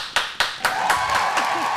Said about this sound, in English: And clap it up for the ladies and their take on this one.